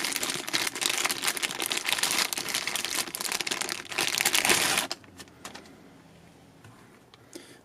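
A plastic bag wrapped around a Vector Optics Nautilus 1x30 red dot sight crinkles loudly and continuously up close for about five seconds, then gives way to a few faint handling clicks and rustles.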